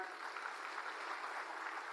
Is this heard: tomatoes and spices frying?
no